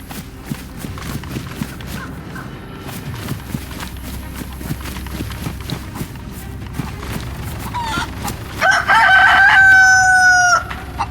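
A chicken clucks in the video game DayZ over steady ambient game noise and footsteps, with a louder sustained burst of sound near the end.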